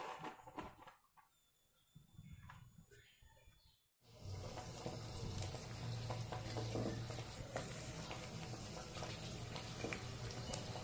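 Homemade sabudana papad sizzles steadily in hot oil, a dense crackling hiss that starts abruptly after a quiet stretch and keeps going loud and close to the end.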